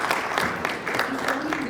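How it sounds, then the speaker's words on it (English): Audience applause for panelists at the close of a fintech and financial inclusion panel, a steady broadband wash of clapping held for the whole stretch, with a voice faintly heard beneath it. "big round of applause for our amazing panelists."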